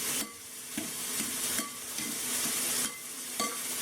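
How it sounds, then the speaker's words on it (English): Eggplant pasta sizzles in a hot pan while being stirred, a constant frying hiss broken by rhythmic scraping strokes of the utensil, close and clear with no talk. "Let's stir this up a bit."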